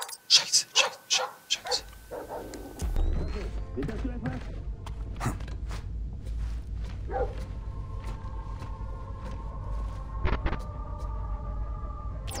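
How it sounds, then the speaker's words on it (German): A guard dog barking in the stealth video game Splinter Cell Blacklist, several sharp barks at the start and then occasional distant yelps over low rumbling game ambience at a sea fortress. "Verdammter Köter."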